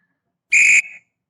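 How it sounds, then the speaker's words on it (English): A referee's whistle blows once in a football video game during a 1981-82 Manchester United season, a short sharp blast that trails off, heard alone. "whistles blown"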